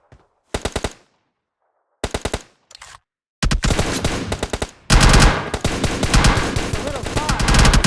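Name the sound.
gunfire in video game PUBG Mobile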